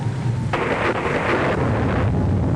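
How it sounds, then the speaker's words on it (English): Thunder from the storm in a 1939 aviation disaster film, a heavy rolling crash that breaks in and rumbles on for a couple of seconds over a steady low background roar. "The center of the storm has hit us."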